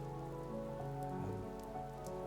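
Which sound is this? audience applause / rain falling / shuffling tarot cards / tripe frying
rain falling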